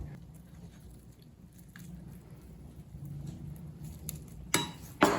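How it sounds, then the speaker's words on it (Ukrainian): Close crunching and chewing of a homemade Chornobaivskyi layer cake with nuts and poppy seeds: quiet, soft mouth noises with a low background rumble, then two sharper crunches near the end. "як хрумтять горіхи"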